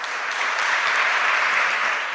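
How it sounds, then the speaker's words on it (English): A TEDx audience claps continuously and densely for Latino civic leader Maria Teresa Kumar, a steady wash of applause that holds level and fills the room with no voices over it. "give a round of applause, please, for Maria Teresa Kumar."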